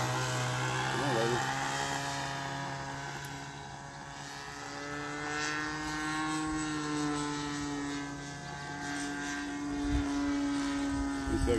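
Twin-engine SS90 model airplane flying overhead with a steady, sustained propeller drone that shifts in pitch as it passes near and far, with someone speaking at times.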